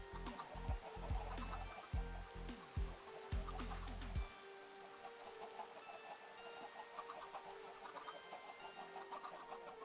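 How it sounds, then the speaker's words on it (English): Adult chickens in the Minecraft video game cluck repeatedly in a faint, steady stream, with several sharp thuds at the start before the clucking carries on alone. "up there, right directly underneath the dispenser, is a shit ton of adult chickens"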